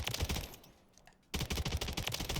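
An AMR9 double-barrel rifle fires in bursts in the game Modern Warfare III, loud rapid shots in two clusters separated by a short near-silent pause.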